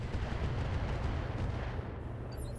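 Long-range mortar fire rumbles in a video game, a continuous deep booming roar that stays loud and dense throughout with no clear separate shots.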